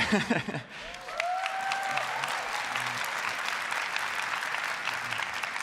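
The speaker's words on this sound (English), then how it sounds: "I'm just going to assume that applause is for how cute my kids are" Conference audience applause, a dense, steady wash of many hands clapping that sustains evenly from start to end after a brief moment of speech at the beginning.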